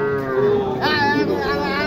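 At a cattle market in Mahadevpur, Naogaon, a cow lets out a single close, drawn-out moo that bends upward partway through and holds to the end.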